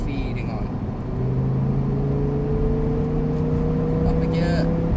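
Audi R8 with a single-clutch gearbox accelerating out of a left-hand corner, its engine note climbing steadily in pitch as power is gently fed in, heard from inside the car with people talking over it.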